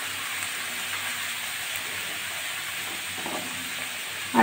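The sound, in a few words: potatoes frying lightly in oil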